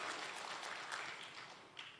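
A crowd applauds steadily at the opening of the APKASI Otonomi Expo 2025 in Tangerang, a dense wash of clapping that holds for the full two seconds without a break.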